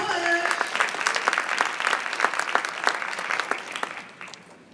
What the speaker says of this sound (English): So let's give a round of applause for Principal Bush.